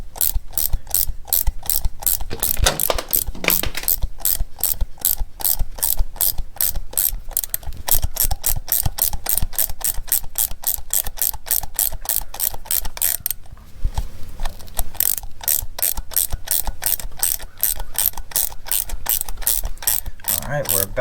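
A ratchet wrench clicks quickly and steadily as it seats an exhaust bolt into aluminum on a Honda GL1500 motorcycle, close and loud, with one brief pause midway.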